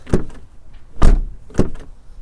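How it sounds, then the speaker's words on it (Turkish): A 2005 Peugeot 307's car door shuts with a solid, close thud, followed by two more similar heavy door closings in quick succession. "Bakmadan önce bir kapı tok sesi daha bizim Türklere özgüdür ya."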